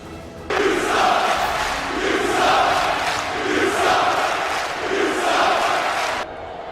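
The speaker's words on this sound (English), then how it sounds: "this crowd not a fan of the Abyssal Void." A crowd at an MNW wrestling show boos and jeers continuously for several seconds, a loud, dense wash of voices that swells and dips, with no commentary over it.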